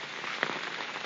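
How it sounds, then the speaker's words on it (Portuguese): Heavy rain pours down in the mountains among storm-damaged banana plants, a dense, constant hiss of drops hitting surfaces, loud and close, with a brief sharper splash partway through. "E nessa chuvada, né?"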